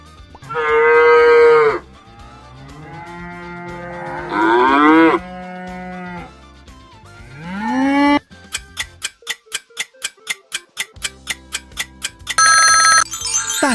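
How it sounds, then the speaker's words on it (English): Cattle moo in long, loud, drawn-out calls, three or four lowing bellows in turn. A rapid, even ticking pulse follows, then a short ringing tone. "That's a cow!"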